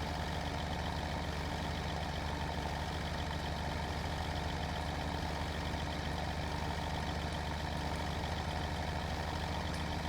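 A tractor engine in the farming game Farming Simulator 2017 drones at a steady idle-like hum, a constant low mechanical rumble with a faint rhythmic flutter and no voices.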